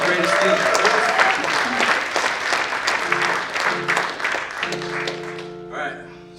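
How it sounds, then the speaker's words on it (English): An audience claps loudly at a live community event, a dense burst that thins and fades over several seconds while voices talk over it. "Let's give a round of applause for self-expression."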